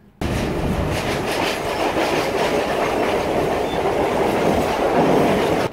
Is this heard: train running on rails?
yes